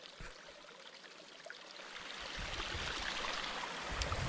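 Water in a small mountain creek in Alaska rushes and trickles softly. The flow is faint at first and then grows steadier and fuller, a continuous hiss with no voices.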